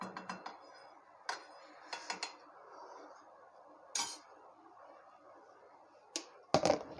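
Metal lid set down on a pot of butter paneer masala gravy on a high gas flame, giving several sharp clinks and taps spread across the clip, with a louder clatter near the end over quiet kitchen background.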